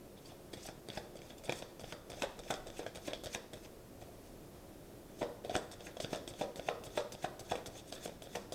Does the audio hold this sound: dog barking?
no